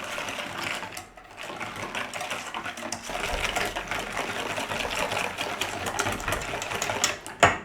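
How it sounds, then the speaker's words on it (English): A hand whisk beats sugar into custard mixture in a bowl, a steady fast scraping rattle that runs continuously at low volume. "just give it a little whisk in there for a couple of minutes"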